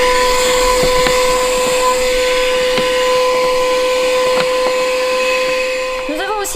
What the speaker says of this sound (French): un aspirateur qui nous a quand même servi de nombreuses fois également, qui se branche sur les prises d'allume-cigare